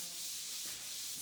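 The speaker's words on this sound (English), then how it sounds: "Right now, Chad is sanding it to put a final coat of varnish on it." Steady, continuous sanding of a curved wooden ceiling panel for a bus conversion, a dry hissing scrape that stays close and even throughout with no talking.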